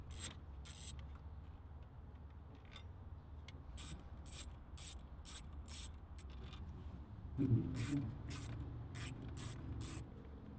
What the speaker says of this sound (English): Let's go ahead and remove 1, 2, 3, 4 10mm bolts holding the radio in place.